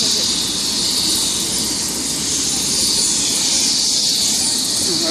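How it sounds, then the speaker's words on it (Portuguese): Close, continuous roar of a helicopter setting down on the BR-101 highway to rescue a motorcycle crash victim, its engine whine and rotor wash loud and unbroken throughout. "O helicóptero tá aqui, ó, na BR."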